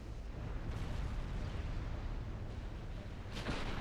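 A battleship blows up and goes down in the UAD naval strategy game, a dense continuous rumbling roar of explosions filling the whole stretch, with a brighter crackling burst near the end.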